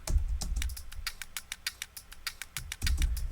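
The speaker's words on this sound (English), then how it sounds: "This is now a really interesting sound. It's actually a stapler." A stapler sample pitched up and played as a drum: a fast, busy pattern of short crisp clicky hits with low thumps at the start and end, fairly quiet and without voices.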